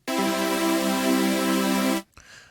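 A thick, buzzy supersaw chord from the Vital synth holds steadily for about two seconds, then cuts off abruptly into a brief quiet tail.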